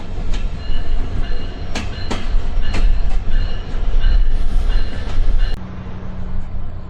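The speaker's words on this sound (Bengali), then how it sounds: "আমাদের লোকোমোটিভটা এখন সৈয়দপুরে দাঁড়িয়ে আছে নীলফামারিতে প্রবেশ করতেছে" A train travels through Nilphamari in Bangladesh, loud and close with rhythmic clattering of wheels over rail joints, rumbling wagon noise and sharp metallic clicks throughout.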